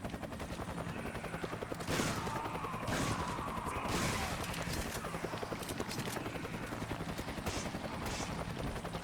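Rifle gunfire in Resident Evil 5 Mercenaries, Sheva in a village stage: rapid repeated shots over busy game noise, loud and dense with several sharper bursts, no talk.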